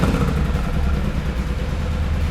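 Yamaha Tenere 700 with its CP2 twin engine running steadily up close, a deep, continuous rumble with a slight revving swell and no voices.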